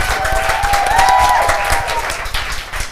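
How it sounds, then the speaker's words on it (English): An audience applauds for a space group at a 2021 exhibition, a dense wash of clapping under a brief whistling tone, loud and continuous for a few seconds. "just give the space group another round of applause"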